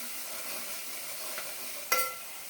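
Onions, green chillies and curry leaves fry in hot oil, giving a steady soft sizzle with light stirring and a brief sharp crackle burst near the end, with no talk.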